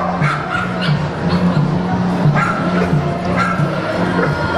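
A dog whines and whimpers in high, drawn-out cries, with a few short barks mixed in, at an animal event in a shopping centre in Taranto, with a person's voice faintly in the background.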